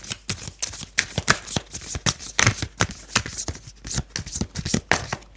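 Tarot cards are shuffled rapidly and repeatedly at close range, producing a dense rhythmic stream of crisp riffles and flicks. Cards are then drawn from the deck.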